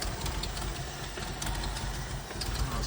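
A 1979 Jeep CJ5 engine idles steadily nearby, a low, rough rumble with a faint knocking texture and no talking.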